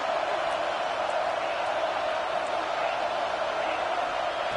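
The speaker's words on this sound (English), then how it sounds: "this home crowd is fired up and ready to make a difference" A home football crowd cheers through a steady, dense roar in a stadium, loud and continuous from start to finish with no breaks or distinct peaks.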